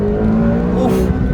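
A McLaren GT with a 4-litre engine accelerates hard in manual track mode, its loud, rising engine note heard up close from inside the car.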